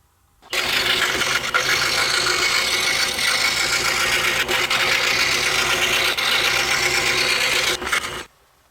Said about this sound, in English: we are going to cut the interior circle, the one that will hold our cup, and we need to cut it in a counterclockwise direction